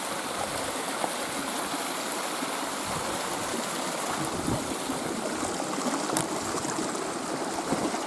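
A small stream runs steadily along a wet, grassy nature walk, a constant close wash of trickling and splashing water with no talk over it.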